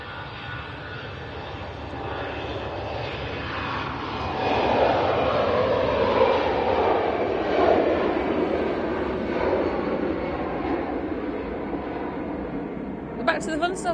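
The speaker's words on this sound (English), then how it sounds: "That's an EasyJet A320 on the way to Alicante." An EasyJet Airbus A320 jet airliner at Manchester Airport gives a loud, steady broadband roar that swells and peaks midway as it passes close by, then eases off slightly.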